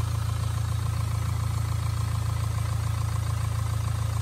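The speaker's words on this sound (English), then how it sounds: "I'm now going to start the engine up" A car engine idles with a steady, low, even rumble, unbroken and moderately quiet, with no voices.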